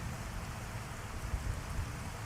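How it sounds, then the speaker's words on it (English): Steady rain falling in a continuous dense hiss with low rumble, unbroken and fairly loud throughout, no voices. "it's raining IRL and in the stream, so double rain is good"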